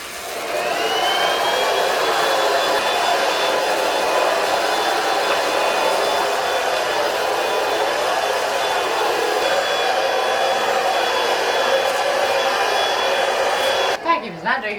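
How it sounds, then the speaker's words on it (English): A vacuum cleaner runs steadily indoors in a bedroom, a loud, constant whirring drone that holds nearly unbroken before cutting off abruptly at the end. "Vacuum is not doing a very good job."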